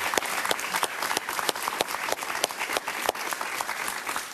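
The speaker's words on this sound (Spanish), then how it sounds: "Un aplauso para Enrique, por favor." Studio audience on a Venezuelan talk show applauds a political guest, lively close clapping with crisp individual claps standing out from the dense steady mass of hands.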